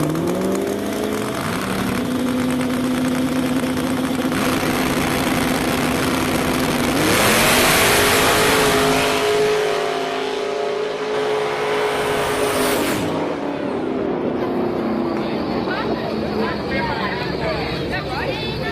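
Turbo race cars roar and accelerate hard down the strip in a drag race finals at Battle of the Bluegrass, loud engine notes rising and falling close by, with excited speech over the top.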